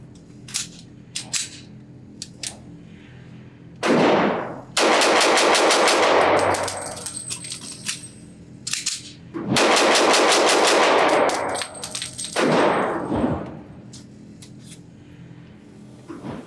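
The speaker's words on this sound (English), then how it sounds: "I'm going to shoot about 7 or 8 rounds in each magazine, see if I can get the gun back in action, and of course, how fast I can shoot it." A Sig Sauer P226 Equinox .40 S&W pistol fires loud, close shots at an outdoor range in two rapid strings, with scattered single reports and magazine handling clicks in between.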